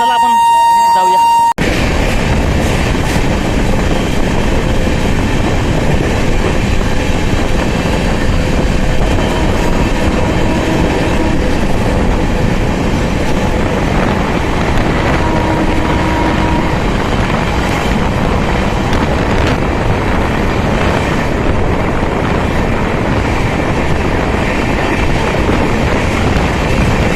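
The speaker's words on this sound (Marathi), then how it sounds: "तर मित्रांनो आपली जी आजची गाडी आहे अमरावती पुणे एक्सप्रेस" The Amravati–Pune Express rolls along the rails with a loud, continuous rumble and rattle heard from on board, while someone talks over the running noise.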